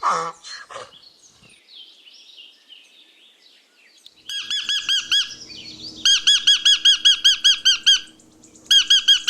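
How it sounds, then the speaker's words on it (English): A parrot gives loud, harsh squawks in repeated bursts, a rapid series of sharp calls that pauses and then resumes, preceded by a few seconds of quieter, mixed animal sounds. "parrot"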